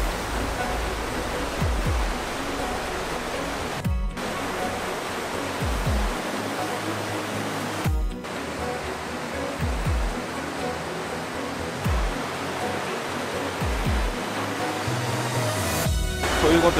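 A waterfall on a trip in Niigata roars as a loud, steady broadband rush that fills the whole clip, with a few brief voices murmuring beneath it.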